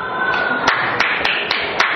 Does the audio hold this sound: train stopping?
no